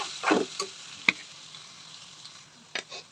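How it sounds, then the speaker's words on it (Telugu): A spoonful of turmeric fries in oil while ponnaganti greens and moong dal curry are cooked, giving a soft, steady sizzle close by with a few light stirring clicks and no speech. "ఇప్పుడు ఒక స్పూన్ పసుపు వేసుకుందాం మంచిగా వేగాలి"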